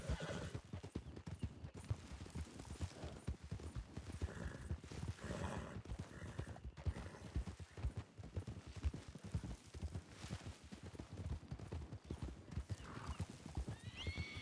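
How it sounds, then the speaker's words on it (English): Video game hooves clip-clop in a rapid, steady rhythm throughout, with a horse neighing now and then over the galloping. "Here's your horse."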